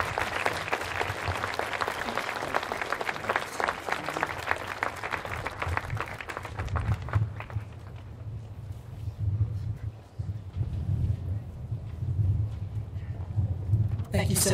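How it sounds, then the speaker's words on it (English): Applause from a crowd at a commemorative vigil marking the 50th anniversary of Dr. Martin Luther King Jr.'s death, loud and dense for several seconds, then thinning into scattered claps and room noise with a low hum underneath. "Let's give both of them another round of applause."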